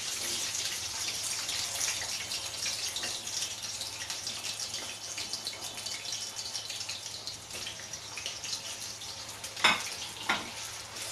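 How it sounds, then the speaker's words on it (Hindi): Potatoes frying in two ladles of hot mustard oil in a kadai make a soft, steady sizzle with faint stirring clinks and two brief louder scrapes near the end, heard close up and fairly quiet. "आलू को फ्राई करेंगे"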